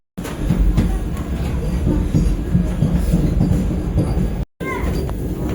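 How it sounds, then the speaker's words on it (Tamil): A Vande Bharat train rolls slowly through a forest tiger reserve near Haridwar, with a steady, close rumble and clatter of wheels on rail that continues throughout, cut by a brief dropout near the end. "அதனால தான் பார்த்தீங்கன்னா ட்ரெயின் காஷனில் போயிட்டுருக்கு"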